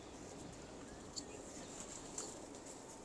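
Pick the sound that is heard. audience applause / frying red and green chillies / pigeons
pigeons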